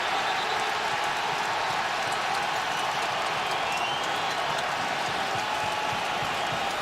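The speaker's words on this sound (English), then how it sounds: "That's why the crowd is responding." A big NFL stadium crowd at a 49ers at Patriots game in 2012 sends up a steady, far-off roar of cheers and applause that runs without a break.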